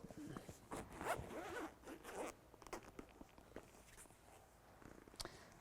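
A zipper on a soft, velvety red cover for a 2017 Ferrari 488 Spider is pulled open. Several close, rasping zipping strokes come in quick succession, with faint handling noise around them.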